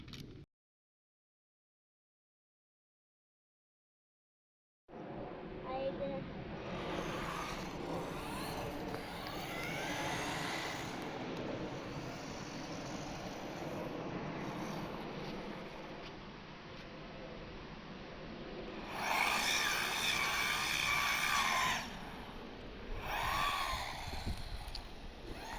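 An AMORIL 1:14 scale RC car drives, its electric motor whirring and revving steadily, louder and brighter in a strong burst near the end after a silent opening.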